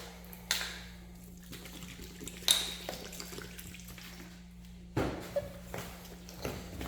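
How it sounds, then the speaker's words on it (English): Water splashes in a few brief pours against a soft, squishy mass of ground meat for jalapeno and cheese summer sausage, separated by quiet pauses over a low steady hum. "So I'm actually going to add a little bit of water."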